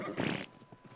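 A horse in the video game ARK lets out a brief, breathy whinny up close, followed by a few faint soft thuds as it settles.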